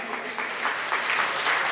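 Audience applause for an organising committee at a Tamil Sangam Chitirai festival event, a dense, steady wash of many hands clapping that holds for a couple of seconds, with faint voices mixed in.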